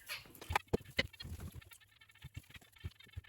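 A rooster in a dirt bath on a small Austrian homestead gives a few short clucks and soft grunts close by, followed by quieter scattered clucking and faint scratching sounds.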